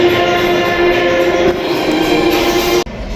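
A New York subway train running through a station, a loud, steady rumble with sustained screeching tones, continuing without pause for a few seconds and dropping off briefly near the end.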